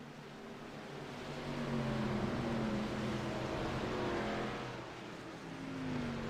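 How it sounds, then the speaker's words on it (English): The iRacing official pace car diving down pit lane at Michigan in a racing simulation: a steady engine drone that swells and eases as it passes, with no voices. "There it goes, diving down pit lane, the iRacing official pace car."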